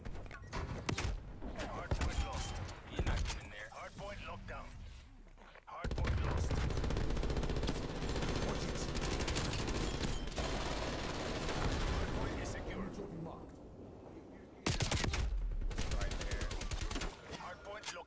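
Shotgun blaster and other gunfire in Call of Duty Black Ops Cold War, loud irregular bursts of shots broken by short quiet gaps, with a voice talking at times.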